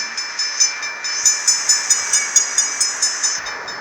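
Train moving in a video game, a steady rolling rumble with a bright high hum and a regular clickety-clack of wheels on rail joints, about a dozen even beats, heard alone at close range.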